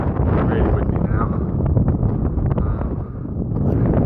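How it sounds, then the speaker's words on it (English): Strong wind buffets the microphone on open Dartmoor moorland, a loud continuous low roar that rises and dips in gusts across the whole clip, with a person speaking underneath it. "Hopefully you can hear me over all this wind."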